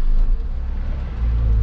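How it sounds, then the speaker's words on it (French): A 1996 Renault Twingo 1.2 engine at idle, a low steady rumble with slight throbbing, close and moderately loud, no voices. "le niveau sonore au ralenti, on entend très légèrement cette ancienne mécanique de conception."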